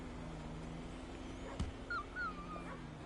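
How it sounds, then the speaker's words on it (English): A dog in GTA V attacks and whimpers, giving a few short yips and whines over a steady game engine hum, with a sharp bite-like hit in the middle. "The dog bit me twice."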